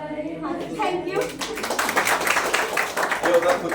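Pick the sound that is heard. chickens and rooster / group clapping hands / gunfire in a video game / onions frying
group clapping hands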